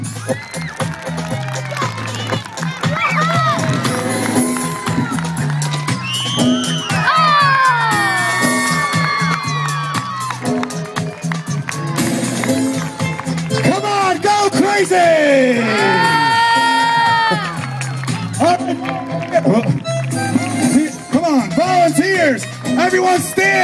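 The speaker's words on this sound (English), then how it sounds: "Come on, let's clap them up." At a SukkahFest gathering, a crowd of adults and children claps, whoops and shouts after a BMX bike jump, with excited voices and cheers rising and falling over a long stretch of lively noise.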